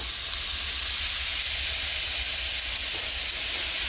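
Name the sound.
peppers, onions and jalapenos sizzling in hot olive oil in a pot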